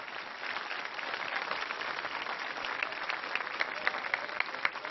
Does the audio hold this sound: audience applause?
yes